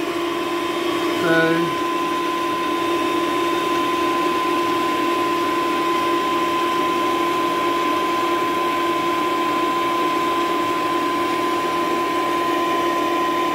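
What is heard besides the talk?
air conditioner running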